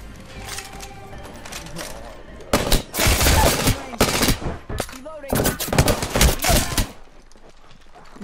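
Gunfire in a video game: rapid, loud bursts of automatic fire crackle in close, repeated volleys with short gaps between them, over a steady low background.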